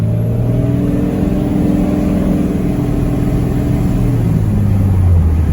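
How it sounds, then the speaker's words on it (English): A loud, close 12-valve Cummins diesel truck engine with aftermarket intake and exhaust roars steadily with a deep rumbling drone, pitch shifting slightly as it revs under load. "it's a diesel with an intake and an exhaust, so it makes all the sounds you want to hear"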